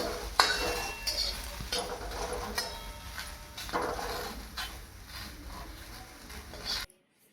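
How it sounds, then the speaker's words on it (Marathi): Onion roasting in a pan for a sprouted matki bhaji recipe, with a spatula scraping and clinking against the metal pan in irregular stirring strokes, close and fairly quiet, ending in silence. "आता मी कांदा भाजणार।"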